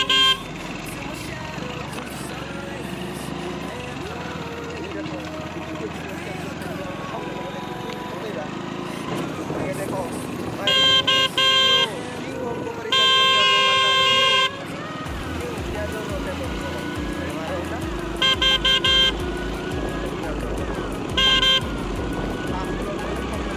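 Vehicle horns honk repeatedly along a village road, in several loud bursts of varying length over steady traffic and engine rumble, with people talking throughout.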